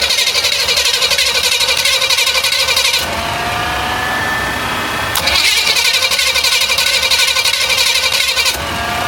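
Small-block Chevy V8 running on a newly fitted Holley electric fuel pump: a loud, rough, pulsing engine run cuts off, then after a quieter pause it cranks and fires again into a throbbing idle.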